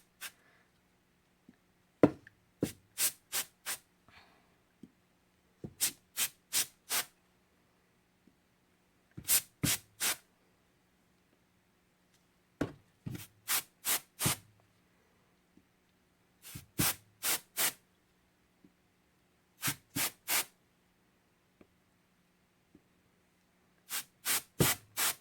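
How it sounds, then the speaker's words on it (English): Short bursts of compressed air blow alcohol ink across a tile, coming in quick clusters of three to five sharp hissing puffs separated by quiet gaps, close and crisp. "now you're going to use the compressed air"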